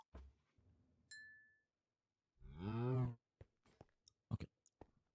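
A cow in the Skyfactory 5 Minecraft modpack lets out one long, loud moo in the middle, with quieter game clicks and dings scattered before and after it.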